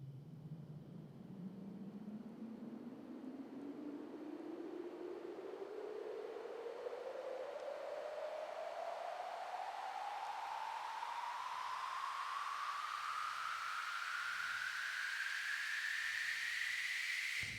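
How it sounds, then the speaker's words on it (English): A synthesizer white-noise riser with reduced resonance climbs steadily in pitch over about eighteen seconds, a smooth, continuous hissing sweep at constant loudness, played alone in an electronic music setting. "now you have these big like white noise risers"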